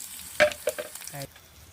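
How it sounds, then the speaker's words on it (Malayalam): Mustard seeds and two dried red chillies fry in coconut oil for a tempering, giving a short burst of sharp crackles and pops up close with no talking. "വറുത്തിടാൻ വെളിച്ചെണ്ണ ചേർത്ത് കൊടുക്കാം. കടുക് ഇട്ടിട്ടുണ്ട്. 2 വറ്റൽ മുളക് ചേർത്ത് കൊടുക്കാം."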